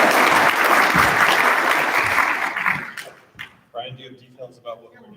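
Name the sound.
applause for panel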